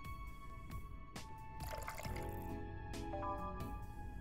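Water trickles and drips as it is poured into a cup in the video game Yuppie Psycho, a soft liquid pour over a steady musical hum, with no voices.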